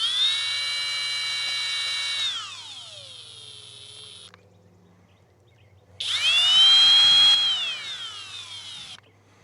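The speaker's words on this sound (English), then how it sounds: "I wonder how many people are going to tell me that drill's not the right tool." A cordless power drill working on a dump trailer, two sustained high whining runs that wind down and spin back up, separated by a near-silent pause, loud and close with no talking.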